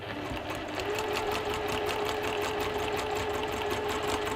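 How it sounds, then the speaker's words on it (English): A sewing machine stitching a seam in a sewing workshop, running steadily and close with a fast, even mechanical rattle and hum that continues without a break. "I'm going to sew along that line between A and C"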